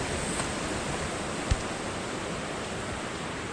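A muddy creek flows steadily, a broad, constant wash of water noise heard close up for the whole stretch, broken once by a brief knock.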